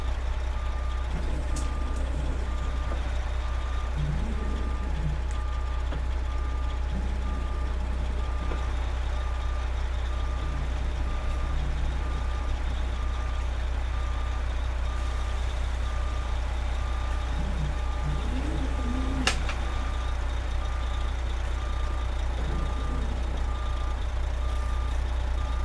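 A long truck in American Truck Simulator sends out steady, evenly spaced reversing beeps over a constant low engine hum, with occasional faint air and mechanical sounds.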